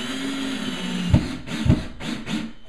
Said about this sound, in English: I'm just gonna start drilling and put it right into the drywall